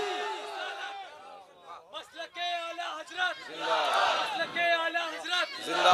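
A large crowd at a religious speech on the birth of the Prophet answers a takbir call with a loud, many-voiced chant of Allahu Akbar, shouted in overlapping bursts that swell and echo in a reverberant space.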